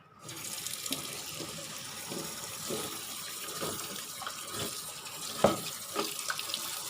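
Tap water runs steadily into a sink while young jackfruit is peeled under the flow, a continuous splashing stream with a few brief louder splashes and knocks toward the end.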